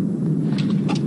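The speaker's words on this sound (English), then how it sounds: "That's the thunder of horses." A deep, steady rumble of galloping horses and chariots approaching across the desert, heard from a distance with no voices over it.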